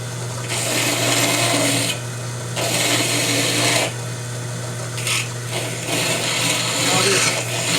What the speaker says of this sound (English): I have a finer file, and I'll finish it up with this.